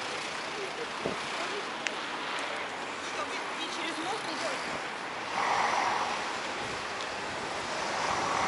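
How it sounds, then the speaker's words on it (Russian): Strong wind roars steadily in a Kaliningrad city street, buffeting and gusting louder near the end, with a voice speaking faintly beneath it. "Ух, какой ветер, ух, какой."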